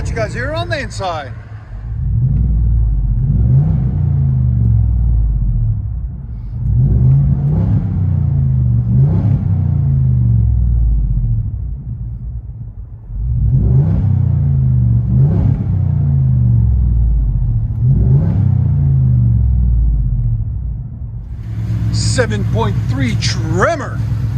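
Inside the cab of a Ford F-350 Tremor with a 7.3L gas V8, the exhaust drones in repeated rev cycles, deep low rumbles swelling and fading about every few seconds, steady and fairly loud.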